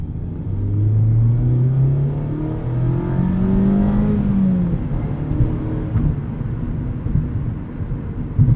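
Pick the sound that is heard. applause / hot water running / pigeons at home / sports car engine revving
sports car engine revving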